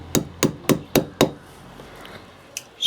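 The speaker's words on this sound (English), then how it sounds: "just tap on the hole, makes a little indentation" A hammer taps five quick, sharp blows into a freshly drilled hole in a concrete block wall, close and evenly spaced, followed by a quiet pause and one lighter tap at the end.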